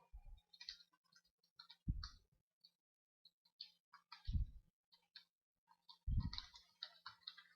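Keyboard typing of website code, a quiet, irregular patter of light key clicks in short bursts, with a few dull low thumps between them and no talk.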